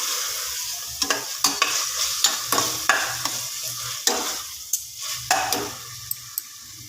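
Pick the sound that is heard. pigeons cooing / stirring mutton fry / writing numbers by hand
stirring mutton fry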